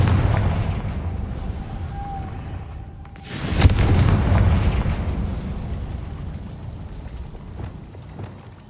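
A fire spell explodes in the video game Hogwarts Legacy. A sharp, loud blast breaks over a rumbling background, and its roar slowly dies away over the next few seconds.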